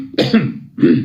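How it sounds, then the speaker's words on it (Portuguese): A single throat clearing, close and fairly loud, in two harsh bursts separated by a short pause. "perdão, pigarro."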